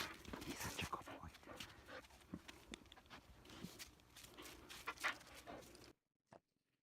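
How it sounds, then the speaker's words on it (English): Dog moving about a room, with soft shuffling footsteps and panting. The rustling is close and continuous, and it cuts off to near silence at the end, leaving one brief faint knock. "What a good dog."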